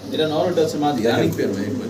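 A pair of silver Lahori pigeons, large birds with feathered feet, give low, rolling coos up close, several overlapping calls in quick succession.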